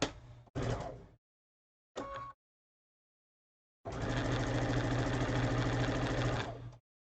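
A sewing machine stitches pieces of cotton fabric: two short bursts of needle clatter, then a longer run of steady, rapid stitching, close and loud, separated by silences.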